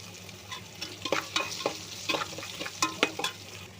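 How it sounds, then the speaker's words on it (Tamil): Onions, tomatoes and vegetables sautéing in a pan for vegetable biryani, with ginger-garlic paste and salt: a soft steady sizzle broken by repeated scraping, clattering stirs of a spoon against the pan, close and alone. "ஆனியனும் டமேட்டாவும் நல்லா வதங்கணும்."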